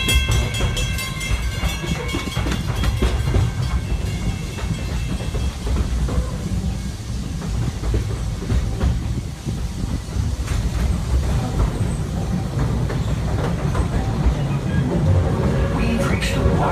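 The Magic Kingdom railroad train rolls steadily along its tracks with a continuous loud rumble and rhythmic clatter, while an amplified narrator's voice talks over the running sound throughout.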